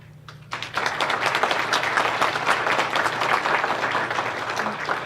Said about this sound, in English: a round of applause to our speakers